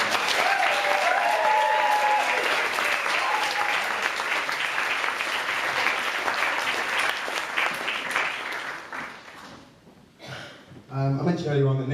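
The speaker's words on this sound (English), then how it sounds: "I'd like to just want to give a round of applause for Sophie on how fantastic she looks today" Wedding guests give the bride a warm round of applause, steady and full for about nine seconds before tapering off, with a voice briefly heard as it ends.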